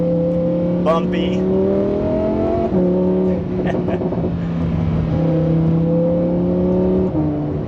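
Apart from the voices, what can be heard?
Lamborghini engine accelerating in Corsa mode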